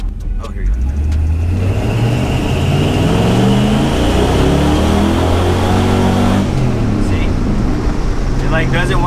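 An LS-swapped Chevy C10 truck engine revs hard and climbs repeatedly, bouncing off the rev limiter instead of shifting, loud and close, with rising and falling engine tones and a voice speaking briefly near the start.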